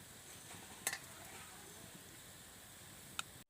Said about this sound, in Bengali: গোলাপজামগুলো এবার আমি লাল লাল করে ভেজে নেব।